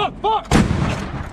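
A US Army artillery gun fires during combat training in Germany, one loud, close boom that follows a short shout and then rumbles away.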